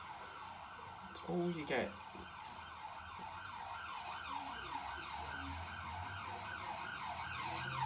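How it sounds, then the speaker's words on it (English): An ambulance siren passes along a nearby main road, its wail rising and falling steadily for several seconds under the low hum of traffic, with a voice briefly speaking near the start. "What's it this time? An ambulance? Yeah, there we go. Poxy ambulance again."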